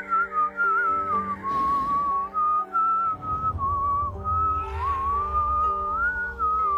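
In the Teen Titans Go! cartoon, a clear, wavering melodic whistle runs continuously for several seconds over a low background hum and some brief noisy bursts.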